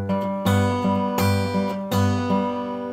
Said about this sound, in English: I forgot to do the 3-finger G, but it would sound like this.